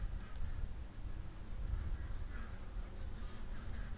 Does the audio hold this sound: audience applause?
no